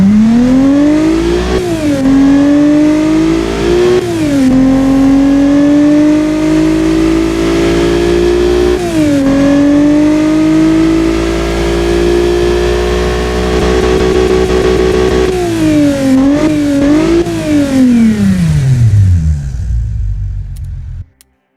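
Honda C30A V6 from the NSX with a modified exhaust, revved in the Automation car game, a loud, close engine note climbing and dipping through repeated throttle blips before falling away and cutting off.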